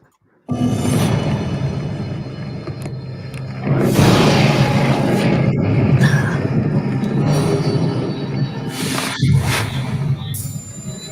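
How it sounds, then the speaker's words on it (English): Rumbling, rushing roar like a freight train within a recording of jungle noises, starting abruptly after a brief silence and continuing loud and sustained, with a few sharp clicks and squeals over it. "I'm hearing a freight train."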